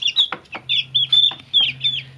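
Young chickens kept in a cardboard box cluck and peep in quick, close bursts, several chirpy calls overlapping in an irregular rhythm over a steady low hum, with no talking.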